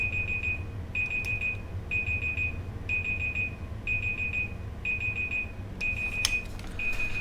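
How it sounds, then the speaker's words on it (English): A home alarm signals that the laundry has finished washing: short, bright electronic beep bursts repeat about once a second for the whole stretch, fairly loud over a steady low engine-like drone. "That's my alarm for washing, to tell me my washing's done."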